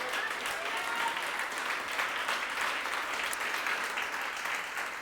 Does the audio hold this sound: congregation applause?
yes